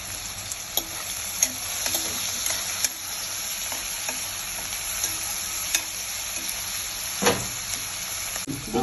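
Onions frying with curry leaves and coriander in a pan, a steady close sizzle with occasional soft stirring scrapes and clicks throughout, no talk.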